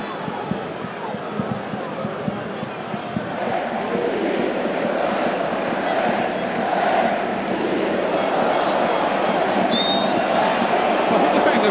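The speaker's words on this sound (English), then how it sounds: "the crowd trying to keep themselves entertained" Football stadium crowd at a France versus Ivory Coast World Cup match, a steady dense roar of many voices filling the background, swelling slightly partway through and holding loud to the end.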